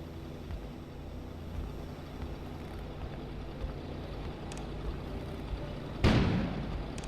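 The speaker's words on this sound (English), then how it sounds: "An explosion suddenly occurred outside." In the video game Kona, an explosion goes off outside during a snowstorm. It comes as a single sudden, loud, broad blast that fades out over a low, steady background rumble.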